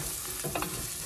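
Onions with turmeric powder fry in a clay pan for fish molee, a steady close sizzle with a spatula stirring through it midway in a couple of soft scraping strokes.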